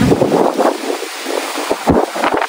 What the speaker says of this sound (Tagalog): malakas pa rin po ang hangin ngayon dito po sa amin